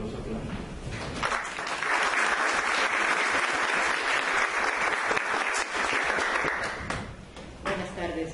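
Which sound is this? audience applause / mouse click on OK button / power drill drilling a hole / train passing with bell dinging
audience applause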